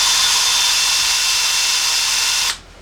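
An electric drill whines steadily, loud and close, as it bores into a stripped Allen bolt on a motorcycle engine, then cuts off abruptly near the end.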